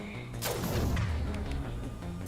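A Mass Effect 2 concussive shot power goes off as a single heavy, booming blast with a short sharp attack and a rumbling tail, loud and close against steady background battle noise.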